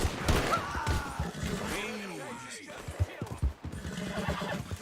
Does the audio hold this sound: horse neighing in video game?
yes